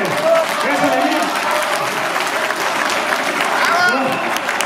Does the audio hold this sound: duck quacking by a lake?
no